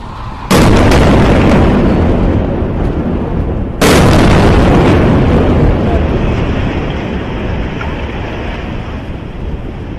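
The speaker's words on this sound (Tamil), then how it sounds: "அவர்கள் அனைவரும் வெளியேறிய சில நிமிடங்களில் இஸ்ரேல் அல்ஜலா கட்டிடத்தை குண்டு போட்டு தகர்த்துள்ளது." An Israeli airstrike hits the Al-Jalaa building in Gaza: two loud, sharp blasts a few seconds apart, each followed by a heavy, sustained roaring rumble that slowly fades.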